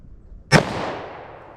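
A single sharp gunshot from a .357 Magnum revolver with a 4-inch barrel at an indoor range, a loud close crack followed by a long decaying reverberant tail, alone without talk.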